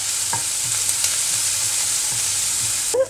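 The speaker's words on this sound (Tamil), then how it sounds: "இந்த வெங்காயம் கொஞ்சம் ப்ரௌன் ஆகிற வரைக்கும் நல்லா வதக்கி எடுத்துக்கலாம்" Onions sauté in hot oil with cumin and fennel seeds for prawn thokku, holding a steady bright sizzle while a utensil stirs in soft, regular scrapes, ending with a louder clank.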